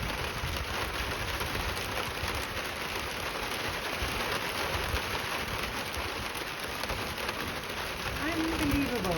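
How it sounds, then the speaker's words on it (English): Heavy rain pours down in a dense, steady hiss on an off-grid homestead, with a brief muffled voice near the end. "Heavy downpour."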